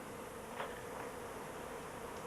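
A soft, steady honeybee buzz from queenless package bees hums under a constant hiss of background noise, faint and continuous throughout.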